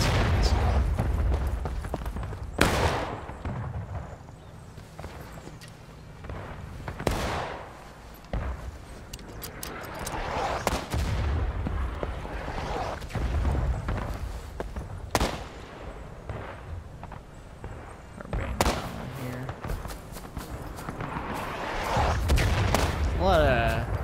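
Pistol shots crack out again and again during a firefight at a bridge with pontoons in the Civil War video game War of Rights, sharp reports scattered at uneven intervals alongside heavier distant booms, with a voice talking over them.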